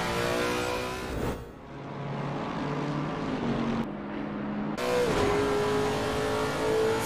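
GT3 race car engine roaring at the Bathurst circuit, a loud continuous rev that drops and rises as it shifts through gears, with abrupt cuts like a replay edit.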